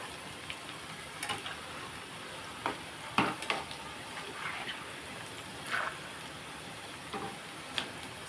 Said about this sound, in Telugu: మొత్తం అంతా కూడా ఈవెన్గా కలుపుకొని గోల్డెన్ కలర్ వచ్చే వరకు మనం వేపుకుందాం